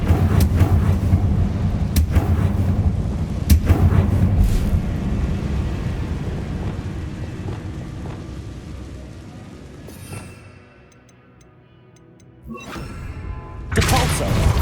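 Spell blasts from Confringo in Hogwarts Legacy boom and crack repeatedly, several sharp impacts over rumbling noise, dropping to near quiet before two more loud bursts.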